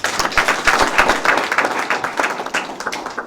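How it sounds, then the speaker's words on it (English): An audience applauds at a presentation, a dense, steady spread of many hands clapping close by, with a few voices faintly mixed in. "Give her a round of applause."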